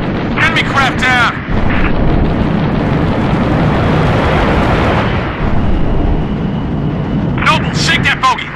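An enemy craft explodes in the video game Halo Reach as a long, loud, rumbling blast with a roaring tail, while voices call out over the start and end.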